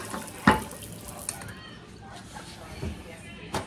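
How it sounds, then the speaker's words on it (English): Tap water running over meat for ribs being rinsed in a sink, a steady splashing wash with a few louder clunks and splashes, close by. "now that we got all the meat rinsing"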